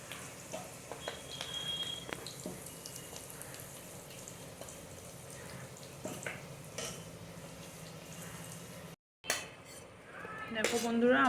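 Fried potatoes being moved from the pan onto a plate, with soft clinks of a metal utensil on cookware and a faint background sizzle, followed by a louder clatter near the end.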